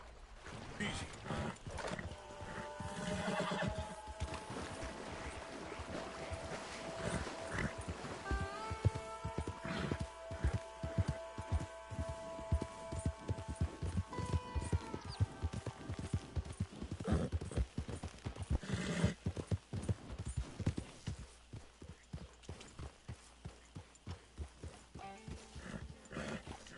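Rhythmic hoofbeats clop steadily throughout, with a horse whinny partway in and some music or tonal sounds underneath.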